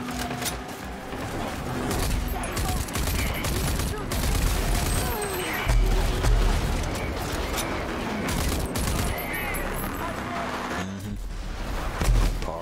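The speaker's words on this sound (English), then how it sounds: "I would like to get back to shooting now." Rage 2 gunfights with rapid, sustained weapon fire and booming impacts, loud and busy for the whole stretch, with a player's voice talking underneath.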